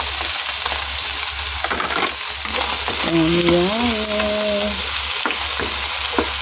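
Shrimp and bottle gourd sizzle and crackle steadily in a hot pan while being stirred, close and continuous, with a brief spoken word partway through.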